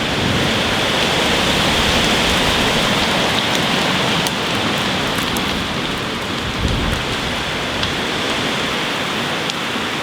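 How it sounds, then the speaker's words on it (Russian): Heavy rain roars steadily with hurricane-force wind gusts surging through it, a dense, loud wash of noise with no voices. "Дождь начинается, ветер по-прежнему ураганный."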